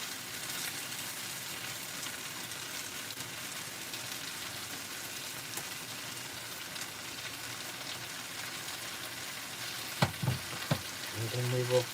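Onions frying over liver in a pan, a steady soft sizzle with fine crackling throughout, then a few louder utensil knocks and scrapes near the end.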